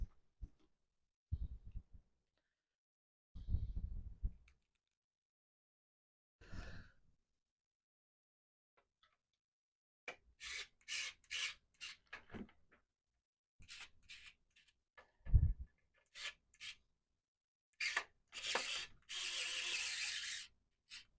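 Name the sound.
screwing in PC power supply screws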